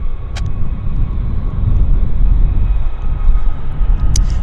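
Steady low rumble of an aircraft taxiing at Vancouver International Airport, a broad continuous engine drone that swells slightly midway, heard from a distance with no voices.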